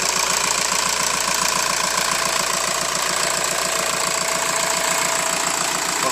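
A VW T5 Highline campervan's common rail diesel engine idles steadily, a smooth even rumble with a faint rhythmic tick running throughout, close and unbroken.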